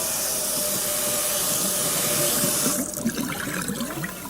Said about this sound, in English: ordinarily, we would have to rinse that duck